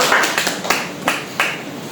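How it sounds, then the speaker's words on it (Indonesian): Students in a classroom clap their hands together, a handful of sharp, uneven claps spaced across a couple of seconds, fairly close and loud, with no voices over them. "Tepuk tangan untuk kita semua."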